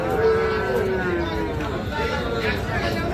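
A Nepali Gir bull calf, about four to five months old, lets out a single drawn-out moo at a cattle market, with crowd chatter and voices behind it.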